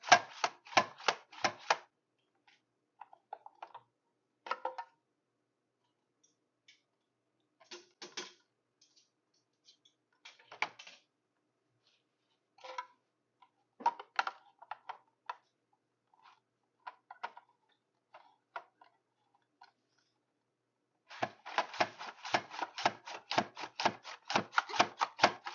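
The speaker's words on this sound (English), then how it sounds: "Now I have some chopped onion." Onion is chopped in a hopper-fed food chopper, giving bursts of rapid, close clacking strokes separated by pauses, ending in a long fast run of sharp repetitive chops with no speech.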